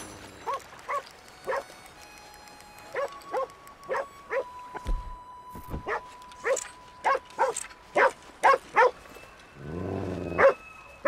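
Dog barking in Red Dead Redemption 2, a string of sharp, evenly spaced barks close by, then a brief low whimpering growl at the end.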